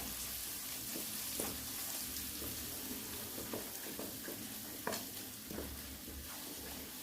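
Ground onion paste sautés in hot oil in a pan for a chicken curry, with a steady close sizzle and scattered scraping stirs throughout.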